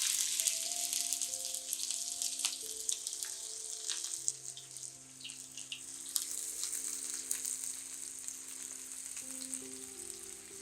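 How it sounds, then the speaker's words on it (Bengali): Sliced onions fry in about a tablespoon of oil in a frying pan on a stove, making a soft, crackling sizzle with scattered pops, quiet and steady beneath faint tonal background music. "চুলায় একটা ফ্রাই প্যান দিয়েছি, দিয়েছি কিছুটা তেল, 1 টেবিল চামচ হবে, আর পেঁয়াজ দিয়ে দিচ্ছি।"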